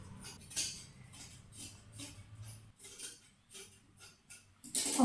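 Scissors cut through fine saree cloth for gown sleeves, producing a series of soft, close snips and rustles at an irregular pace, quiet overall, with a brief louder rustle at the end and no talking.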